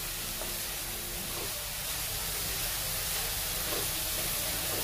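Vegetables for fried rice sizzle and hiss steadily in a pan while being stirred, with soft scraping clicks now and then, fairly quiet and continuous, with no talking.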